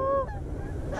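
A Canada goose gives a short honk from a small flock flying overhead, faint and distant against outdoor background noise.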